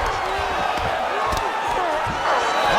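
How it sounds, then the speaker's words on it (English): Arena crowd noise roars in a UFC 5 video game bout between Erin Blanchfield and Taila Santos, a steady loud swell of cheering that lifts near the end, with a commentator's voice faintly underneath. "you heard the crowd pop after that grueling ground battle"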